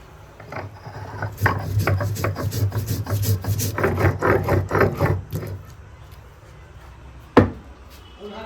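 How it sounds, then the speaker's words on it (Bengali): Poppy seeds are ground into paste with a run of rhythmic, gritty rubbing strokes that speed up in the middle and then stop, followed by a single sharp knock. "এবার আমি পোস্তটা বেটে নিই"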